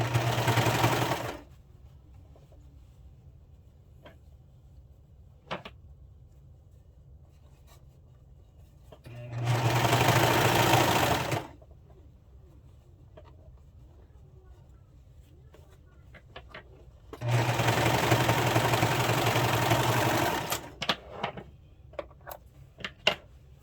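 A sewing machine stitches fabric for a top in three separate close, steady runs of a couple of seconds each, with quiet gaps filled by faint clicks and handling noises between them.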